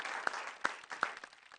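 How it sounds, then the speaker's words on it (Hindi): Audience applauding a poet at a televised Hindi poetry gathering, a short burst of clapping with a few sharper, evenly spaced claps standing out, fairly soft and brief. "आइए पंडित जी के लिए एक बार जोरदार तालियां बजाएं"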